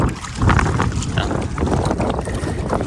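A boat moves across open water, with strong wind buffeting the microphone and a constant churning, splashing rush throughout.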